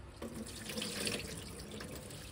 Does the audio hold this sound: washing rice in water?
yes